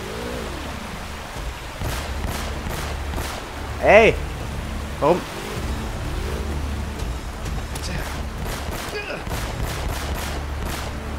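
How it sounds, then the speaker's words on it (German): Gunfire from Elena's weapon in Uncharted, quick repeated shots popping in short bursts over a steady game background, with someone speaking briefly. "Wir können die alle ohne Probleme abknallen mit dieser Waffe."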